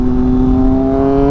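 Triumph Daytona 765 Moto2 three-cylinder engine held at a steady loud rev, a close, sustained tonal drone with strong harmonics and no speech.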